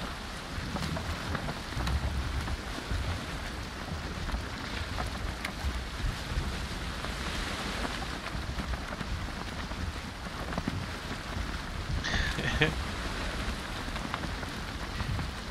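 Steady broadband wash of stormy ocean waves and rain at sea in the game Valheim, continuous and fairly loud throughout, with a brief brighter splash near the end and no talking.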